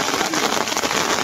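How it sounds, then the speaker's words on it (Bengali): Steady rain falls over a flooded village wetland where fish are being netted, making a dense, continuous close hiss of drops with no voices. "দেখেন বৃষ্টি কি সুন্দর।"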